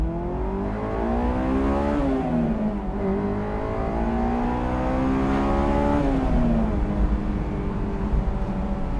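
A Honda S2000 AP1 engine while driving, heard from inside the car as a loud rising and falling rev with gear changes, the high-pitched four-cylinder whine climbing steadily.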